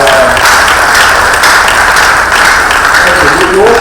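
A conference audience applauds loudly and steadily at a career event, a thick, even roar of clapping with a voice speaking over it.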